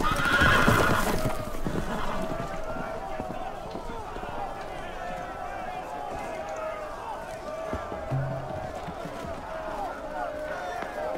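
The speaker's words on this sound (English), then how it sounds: "The horses! They're loose!" In a Game of Thrones video game, a horse neighs loudly at the start, then hooves clatter steadily beneath continuous background noise, like a galloping herd of loose horses.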